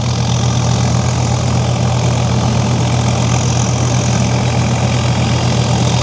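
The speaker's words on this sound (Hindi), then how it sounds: "यही इन्हीं का ट्रैक्टर है।" A tractor engine idles on a village farm, giving a loud, steady, unbroken drone with a low rumbling throb that holds constant throughout.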